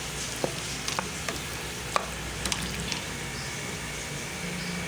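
Potatoes frying in a karahi with chicken wings produce a soft, steady sizzle with scattered light clicks and scrapes of stirring, moderately close and without voices.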